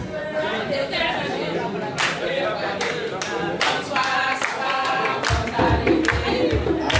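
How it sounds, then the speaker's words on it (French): A crowd at a political gathering in Côte d'Ivoire honoring Guillaume Soro claps steadily, with sharp individual claps over busy chatter and voices talking throughout. "Applaudissez les femmes"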